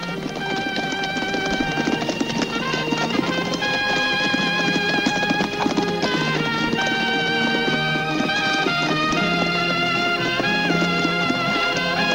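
Horses gallop off at speed in a western film scene, their rapid hoofbeats running continuously under a loud, busy music score.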